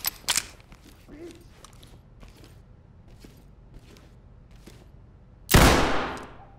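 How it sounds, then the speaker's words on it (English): Gunfire from a gun in the tactical shooter Ready or Not: a sharp shot at the start, then scattered faint clicks, ending in one loud close blast with a lingering decay. "This thing does not shoot fast."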